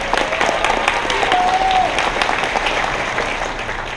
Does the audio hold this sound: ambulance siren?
no